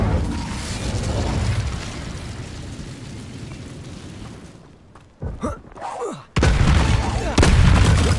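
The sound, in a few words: Incendio fire spell cast in video game Hogwarts Legacy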